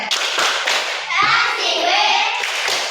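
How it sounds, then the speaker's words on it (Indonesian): Hands clapping in a classroom clapping game, a loud burst of many hands with children's voices chattering and calling out over it. "Oke, kasih tepuk tangan."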